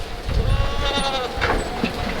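A single small goat bleats on a farm, its wavering, harmonic cries repeating close by over a low background rumble.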